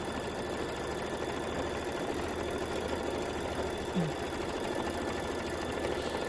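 A machine quilts the outer border of a Kimberbell Sweet as Pie quilt. Its fast, even mechanical chatter holds at a constant, moderate level from start to finish.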